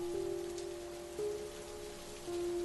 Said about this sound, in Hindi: बाहर बारिश की आवाज और तेज होने लगती है।